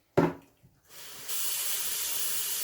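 Tap water runs steadily into a sink while rice is rinsed for Jamaican rice and peas, starting with a brief splash and settling into a continuous, fairly loud broadband hiss.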